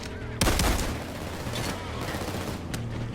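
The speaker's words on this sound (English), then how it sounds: "I hear the other SWAT turrets, I guess repairing" Sustained gunfire from SWAT turrets in the heist shooter Payday 2, opening with a loud burst and then continuing as dense, steady automatic fire with a few sharper bangs.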